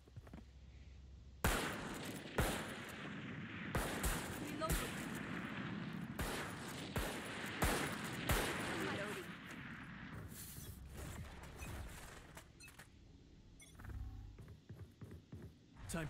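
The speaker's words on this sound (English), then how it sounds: "It's time to hip fire everything." Rapid hip-fired gunfire in a video game, with bursts and single shots cracking loud and close over a dense, continuous battle din that runs for the whole stretch.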